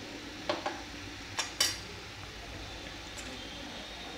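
A spoon clinks lightly against a container while spices are stirred into amla pickle, a few faint, sharp taps clustered early over a quiet background.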